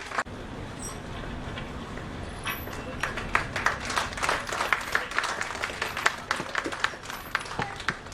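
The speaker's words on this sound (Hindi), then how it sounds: "मैं चाहूँगा एक बार जोरदार ताली बजाएं इस खूबसूरत मौके के लिए।" An audience applauds at an anniversary and inauguration ceremony, with scattered claps swelling into sustained, fairly distant applause after a few seconds.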